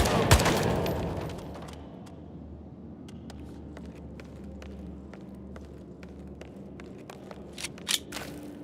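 Scattered gunfire in the Hitman 3 video game: a loud shot right at the start, then a string of sharp, separate cracks over a low rumbling background, with a closer cluster of shots near the end.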